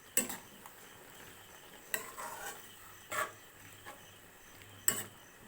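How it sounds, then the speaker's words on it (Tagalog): A utensil stirs sliced sponge gourd (patola) and misua noodles in a simmering pot, giving a few brief scraping clinks spaced a second or so apart over a quiet, faintly sizzling background. "Tapos haluin lang po ulit."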